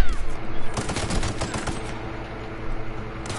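Gunfire in The Outer Worlds video game: a dense, rapid stream of loud, sharp shots that runs almost without a break.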